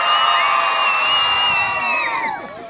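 Marathon runners cheering at the start line of the Wolverhampton Marathon, a loud crowd roar of whoops and shouts held for about two seconds before fading.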